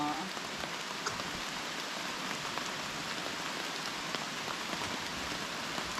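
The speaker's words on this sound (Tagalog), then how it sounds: "Ayan po, lurok na ang ulan." Steady rain patters densely on a surface, an even, continuous hiss with scattered droplet taps, no voices.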